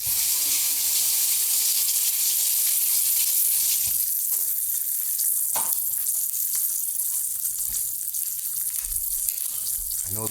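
An egg fries in melted canned Red Feather butter, a steady close hiss and crackle in the pan, with a few brief clinks partway through.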